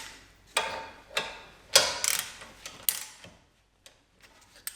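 A ratchet snugs up the front brake caliper bolts on a Grand Caravan (2008-2020 model), giving a close series of clicking, rasping bursts in irregular strokes that die away into quiet near the end.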